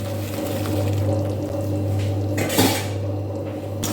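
Jujube (bogori) pickle being stirred in a pan over a gas flame, with steady utensil scraping and clinks against the metal over a low hum, plus a brief louder clatter near the end.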